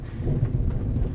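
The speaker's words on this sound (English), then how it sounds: "This storm looks like bad news. It's just a little rain." A deep, rumbling roll of thunder with a steady low rush like rain, loud and continuous, from a thunderstorm in the video game Shadow of the Tomb Raider.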